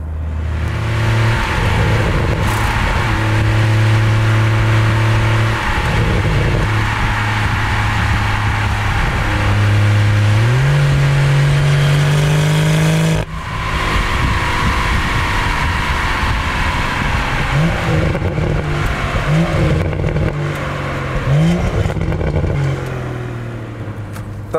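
A BMW M140i with an Akrapovic exhaust and no particulate filter revs hard while driving on an uneven country road. The engine note loud and close, rising and falling through repeated throttle blips and gear changes.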